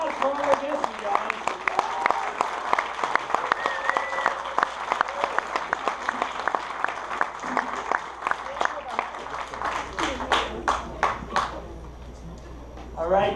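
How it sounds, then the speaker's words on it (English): An audience at a Friday Night Frights screening of Sleepwalkers, a CineFamily reunion, applauds its guests. Scattered clapping and cheers swell near the end after a stretch of talk from a host. "Let's give a big round of applause for our guests"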